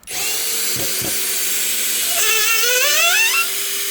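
A cordless screwdriver whines steadily at close range as it backs a screw out of oak wood. Its motor pitch rises and wavers partway through and the drone holds to the end, with no speech over it.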